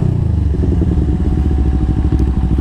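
Big bike motorcycle engine idling and revving in sports mode with a slightly delayed throttle response, a loud, close, steady throbbing rumble with a mechanical clatter.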